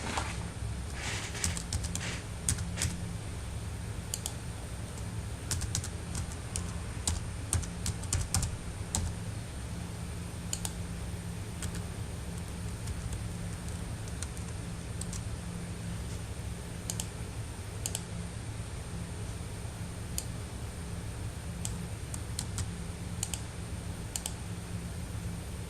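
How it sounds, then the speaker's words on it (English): Steady typing on a computer keyboard while entering information into a table in a document: a continuous stream of quick, close key clicks with occasional sharper taps over a low room hum. "Begin typing your information into the table."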